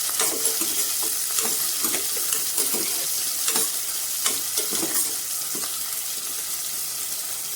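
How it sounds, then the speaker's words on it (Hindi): Chopped onions and green chillies frying in a pan as they are stirred continuously, a steady close sizzle broken by repeated scraping and clinking strokes of the spoon at an irregular rhythm, with no voices. "हरी मिर्च हम डाल देंगे इसमें और इनको हम 2 से 3 मिनट भून लेंगे। लगातार चलाते हुए भूनेंगे"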